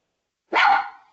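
A single loud dog bark rings out close by, sharp and short with a quick tail, alone against silence during an online community call.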